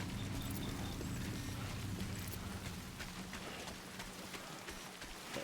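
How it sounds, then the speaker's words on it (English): Rain pours steadily in the video game Death Stranding, a dense, even hiss of drops spattering on surfaces that fills the whole stretch without pause, with faint low rumbles underneath. "But this rain has lasted a long time."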